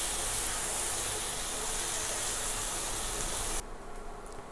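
Tomato masala sautés in a hot pan, giving a dense, loud, steady hiss-like sizzle that drops abruptly to a quieter simmer near the end, with no talking.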